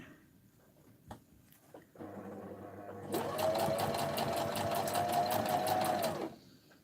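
A sewing machine stitching a fabric book for holding crochet hooks or needles, starting with a low hum, then running in a loud, steady, rapid mechanical chatter for about three seconds before stopping, heard up close.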